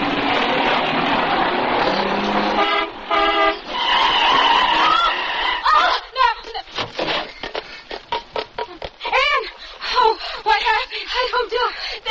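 In a 1979 radio drama, a car engine starts and the car pulls away, followed by a run of sharp, squealing tyre skids growing choppy toward the end.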